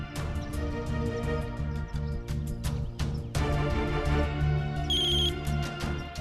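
A phone ringtone plays a repeating melodic tone pattern, clear and fairly close, pausing briefly between repeats and ringing on steadily with no voices.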